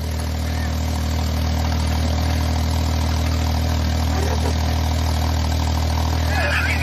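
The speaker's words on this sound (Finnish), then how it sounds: "En olisi ikinä uskonut, että lähtee käyntiin." A BRABUS car engine idles steadily after starting, a continuous low rumble that stays at an even level throughout, with a faint voice briefly in the background.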